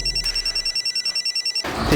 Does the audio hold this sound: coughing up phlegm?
no